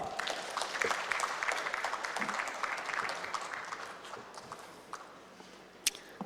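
Audience applause welcoming a panelist at a panel introduction: a steady patter of many hands clapping at moderate loudness, thinning slightly toward the end, with a few louder individual claps near the close.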